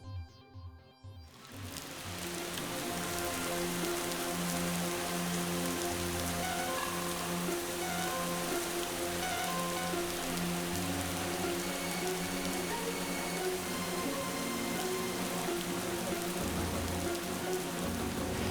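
Steady rain falls on surfaces, a dense, even hiss that swells in after a brief quiet start and continues unbroken and close.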